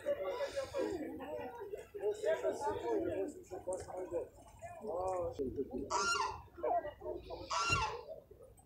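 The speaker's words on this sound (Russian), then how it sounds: "Вот такие разные породы кур." Chickens cluck and squawk in short scattered calls at an outdoor poultry fair, with someone talking over them and a few louder calls standing out near the end.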